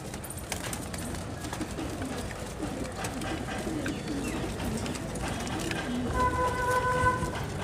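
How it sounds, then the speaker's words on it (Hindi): High flyer pigeons of the Jaipur Tonk breed, large king-size birds, cooing and fluttering close by in a noisy outdoor setting, with a steady background hum and a faint tooting tone near the end. "किंग साइज़ के कद्दावर साइज़ के कबूतर"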